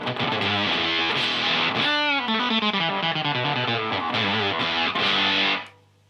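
Electric guitar through a fuzz pedal on its octave fuzz setting, a loud, buzzy, harmonically rich riff of sustained and chopped notes that stops sharply near the end.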